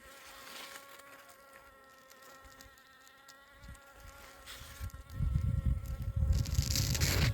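Honeybees buzz around their hives in a steady droning hum, with several insects passing near, and a louder rustling rumble toward the end.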